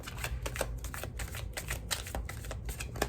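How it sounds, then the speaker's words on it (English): Tarot cards riffle and slap in quick repeated bursts, a soft papery shuffling close by, quiet and without speech. "Now I'm going to shuffle these tarot cards a little bit."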